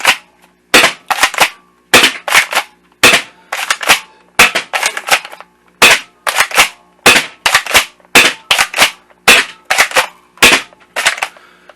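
An Apex Legends toy foam dart blaster being primed and fired repeatedly, giving loud, close, snappy cracks in a steady series of about twenty, with brief mechanical slides between shots.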